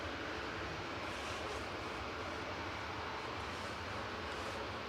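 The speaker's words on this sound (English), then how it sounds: "Aer Lingus about to land, coming in from Orlando." Steady broadband roar of an Aer Lingus airliner on approach to land at Manchester Airport, a constant distant jet rumble with no talk.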